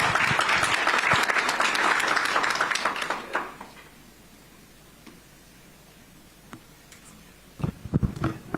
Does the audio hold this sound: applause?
yes